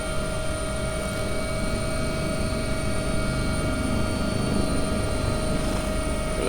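A helicopter hovers close to a landing pad, its rotor and turbine droning in a loud, steady, continuous whine with a strong tonal hum and no pauses.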